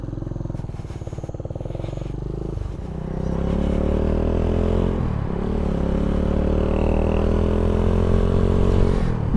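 A misfiring Suzuki Intruder motorcycle engine runs steadily, its fuel tap left off, its low drone shifting pitch as it rides along a road, close and loud throughout with some rattling at the start.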